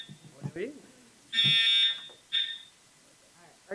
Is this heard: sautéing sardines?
no